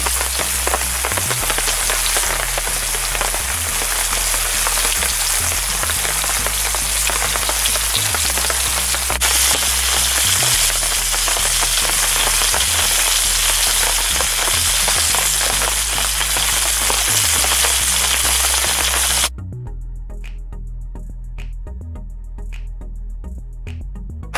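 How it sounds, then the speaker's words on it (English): Steady, dense crackling sizzle of fish frying in a pan, loud and continuous with no voices, briefly changing character near the end. "let fish sizzle"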